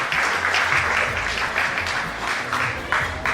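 Clapping from guests at a 60th birthday celebration at the Taj in Colaba, a steady dense patter of many hands that holds at an even level throughout.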